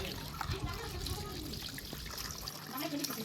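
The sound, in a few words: water draining from chicken washed with turmeric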